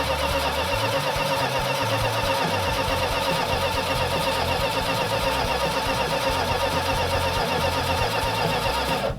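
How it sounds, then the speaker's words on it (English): A car engine runs steadily with a noisy tappet, a metallic ticking riding over a continuous mid-pitched mechanical drone, loud and close throughout with no talk. "we've got a tappet that's making noise, or some kind of metallic noise that sounds like a tappet"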